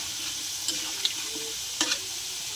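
Panch phoron spices hitting hot oil alongside fried potatoes in a kadai, giving a steady close sizzle with a few sharp pops and crackles spaced through it.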